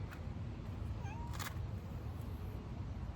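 Pet cats outside meow to be let back in, a few short faint cries rising over a steady low outdoor background, with no one talking.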